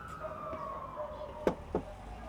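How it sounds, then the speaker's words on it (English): A police siren wails steadily in the background, its tone gliding slowly, with two short sharp knocks near the end. "Police sirens scream."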